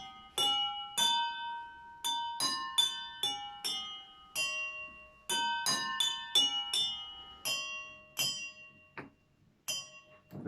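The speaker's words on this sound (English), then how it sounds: "the lower of the pitch sound that the glass produces" Drinking glasses filled with different levels of water are struck one after another, giving clear ringing bell-like notes of varying pitch in a quick, irregular melodic sequence, each tone decaying briefly.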